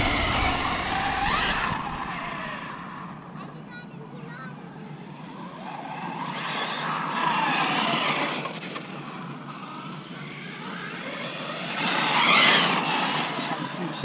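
A Losi Super Baja Rey 6S radio-controlled car whines and buzzes in repeated passes, its gear noise rising and falling as tires crunch over gravel, with a faint voice in the background.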